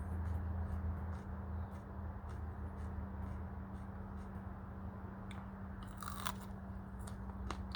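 Someone bites into and chews a crisp Sugar Rush Stripey chili pepper, giving a string of close, dry crunches over a low steady hum, with a sharper crackle near the end and no speech.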